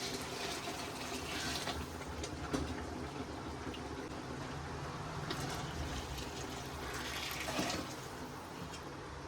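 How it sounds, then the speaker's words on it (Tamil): Boiling water pours steadily into a pot for chicken biryani, a continuous rushing, splashing sound, fairly quiet and unbroken, with no talking. "அதனால் நான் கொதிக்கிற தண்ணி தான் ஊற்றிக்கிட்டு இருக்கேன்."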